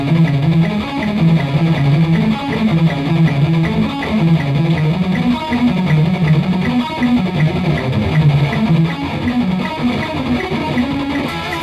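A fast metal guitar passage picked alternately in rapid up-and-down strokes, with dense continuous note runs that stay loud and steady throughout, with no voices.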